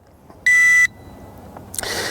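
One loud, sustained electronic beep from a quadcopter drone's controller sounds briefly, then a burst of broadband noise follows; no one speaks.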